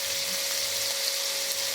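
Small bite-sized chicken pieces fry in a pan for chicken macaroni, giving a steady, dense sizzle with a faint constant hum beneath, close and even throughout with no talk.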